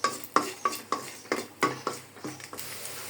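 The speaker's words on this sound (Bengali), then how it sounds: "ভেজে নিচ্ছি কটা শুকনো মরিচ" A metal spatula scrapes and knocks against a pan as dried red chillies fry, landing in about ten sharp, evenly spaced strokes over a faint sizzle, close and clear with no talking.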